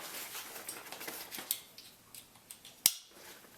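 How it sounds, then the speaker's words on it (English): Metal frame of a fishing wagon buggy being folded up, giving light scattered clicks and rattles with one sharp snap near the end, close and fairly quiet. "And you're able to fold the buggy up,"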